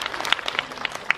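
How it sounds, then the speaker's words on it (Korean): Sparse, scattered claps from a cinema audience at a Korean film's post-screening talk event, a few distinct hand claps spread over a second with no steady roar. "박수 한번 치고 갈까요?"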